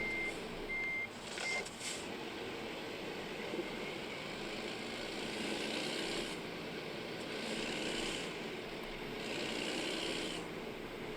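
A truck reversing in the American Truck Simulator video game, with steady evenly spaced beeps over a continuous engine rumble, moderately loud and unaccompanied by talk.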